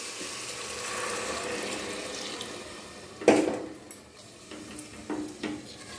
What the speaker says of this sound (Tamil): 300 எம்எல் தண்ணி.